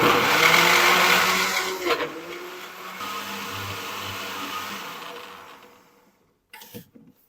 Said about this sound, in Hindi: ब्लेंडर जग में डाल देंगे।